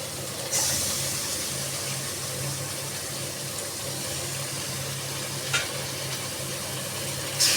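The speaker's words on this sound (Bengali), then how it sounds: "এবার আমি কচুর শাকটা জল ঝরিয়ে রেখেছি সেদ্ধ করে, এবার দিয়ে দেবো আমি" Boiled, drained taro leaves go into a hot pan for a vegetarian Bengali kochu saag, giving a steady close sizzle with a couple of brief sharper bursts, no voices.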